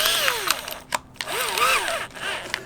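A step drill bit grinds through a mounting panel for a Midland MXT575 GMRS radio microphone, a close, whining power-drill run with pitch sweeping up and down in short bursts and brief pauses.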